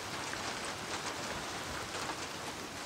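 Steady rain falls in the video game Days Gone, a dense even hiss of drops pattering on surfaces, fairly faint and continuous throughout with no talk over it.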